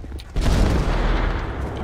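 Explosion in the video game GTA 5 roleplay, a heavy booming blast with dense rumbling crackle that holds loud for over a second after a sharp onset.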